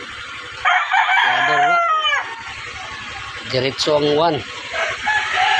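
Roosters on a Filipino farm crow repeatedly with long wavering calls, one near and loud, others answering, with someone talking in between.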